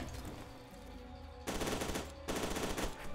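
Automatic gunfire bursts out in F.E.A.R. 2, two loud sustained volleys separated by a short pause, over quieter game ambience.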